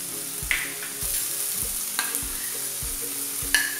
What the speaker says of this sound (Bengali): আলুটা ভাজা হয়ে গেছে, এখন আমি পেঁয়াজটা দিয়ে দিলাম